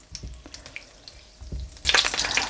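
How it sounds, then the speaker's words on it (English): Oil and melting butter sizzle in a hot pan, faint crackles at first that swell into a steady, bright frying hiss near the end. "into that I'm going to go in with the oil. And then the butter, and just let that heat up and allow the butter to melt"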